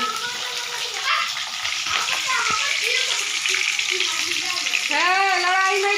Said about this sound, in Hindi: थोड़ा सा पका लेंगे प्याज को